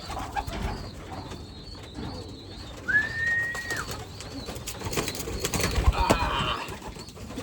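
Young racing pigeons in a loft coo softly, with low murmuring calls, handling noises and a brief higher chirp nearby, set among scattered background sounds.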